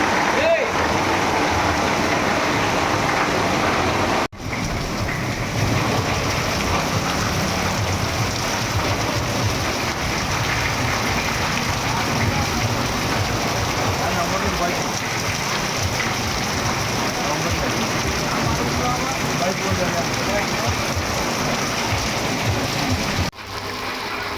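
Heavy rain pours down on the main bazaar of Nalatwad town on a Thursday afternoon, a dense steady wash of water flooding the street, constant and loud for the whole stretch with only two brief dropouts.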